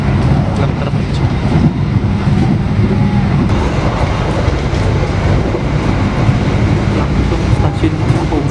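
An Argo Lawu passenger train runs at about 104 km/h on the Yogyakarta–Jakarta line. It is heard from on board as a loud, continuous rumbling roar with faint rail clatter, and a voice talks over it.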